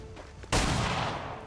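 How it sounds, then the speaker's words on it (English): A single sharp pistol shot in a video game bursts out after a quieter moment and trails off into a broad roaring decay. "you're going to just take a shot to the back of this person's head"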